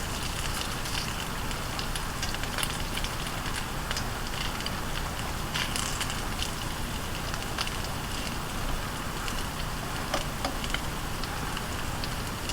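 Meatballs cooking under a lid in a pan, a continuous dense sizzle and crackle with scattered pops, steady and close, no voices.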